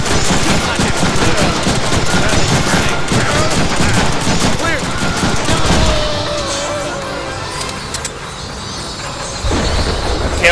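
Gunfire in the Deadpool video game, a dense, loud barrage of rapid automatic bursts for about six seconds, then a quieter lull before the shooting kicks back in at the very end.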